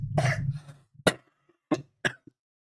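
A person imitates a dry whooping cough: one long strained burst followed by three short, sharp coughs, close and isolated.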